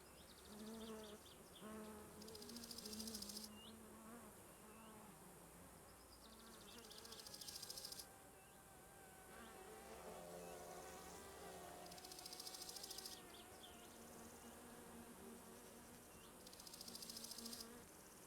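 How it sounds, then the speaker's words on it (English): A wasp buzzing in the video game My Summer Car, a continuous close insect drone that swells and fades repeatedly over background game ambience, with no speech. "Stay away, wasp."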